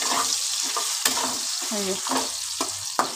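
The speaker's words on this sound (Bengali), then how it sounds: "দেখো আলুগুলো আমি ভেজে নিচ্ছি লাল লাল করে" Potato pieces fry in hot oil, browning to a deep red, with steady sizzling and crackle broken by repeated stirring scrapes against the pan; a brief voice speaks once.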